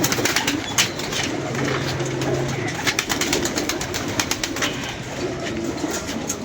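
A pet pigeon coos in soft, low repeated calls close by, with rustling and scattered clicks around it and no talking.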